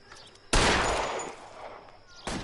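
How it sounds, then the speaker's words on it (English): Single warning gunshot in the video game LA Noire, a sharp loud blast followed by a decaying noisy tail, then a second burst starting at the very end; no talking. "That's a warning shot."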